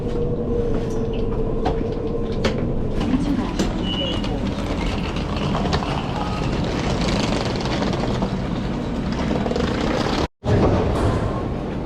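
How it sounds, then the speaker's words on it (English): An airport shuttle train between the domestic and international terminals rumbles steadily throughout, a dense, loud rolling roar with faint squeaks and clicks from the carriage, briefly cutting out near the end. "I had to take the train from the domestic terminal to the international terminal where my flight would depart from."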